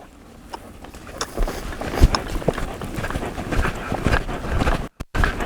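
A horse loping along under a relaxed rider, its hoofbeats thudding in a quick irregular rhythm over wind noise, then dropping off as it halts.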